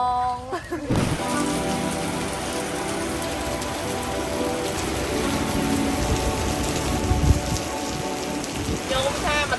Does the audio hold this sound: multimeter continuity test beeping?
no